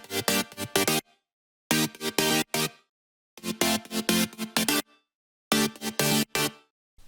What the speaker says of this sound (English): To fill up some space in the track, I added these chords.